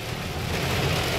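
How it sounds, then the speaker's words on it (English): Steady, soft autumn rain in the Pacific Northwest, a hiss with a dense patter on surfaces, continuous and even throughout, with no voices. "It's raining a little bit,"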